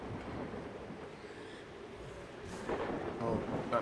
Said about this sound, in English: It's a fair old storm.